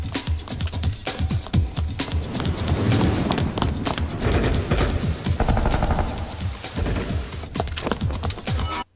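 Rapid gunfire crackles through a fight scene in the 1998 Spawn animated series, dense bursts of shots layered with running and action effects, loud and continuous throughout.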